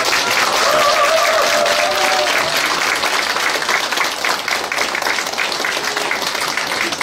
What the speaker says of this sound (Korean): 큰 박수 다시